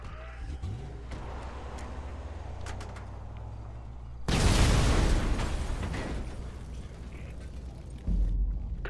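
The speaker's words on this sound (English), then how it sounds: "Cool guys don't look at explosions." A grenade explosion in Grand Theft Auto V during the Humane Labs Raid finale, a sudden loud booming blast midway that fades into rumbling debris, with a second thump near the end over steady game background noise.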